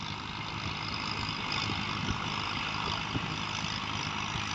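A Massey Ferguson 240 tractor engine runs steadily nearby with a continuous low diesel rumble and scattered knocks, heard alone with no talk.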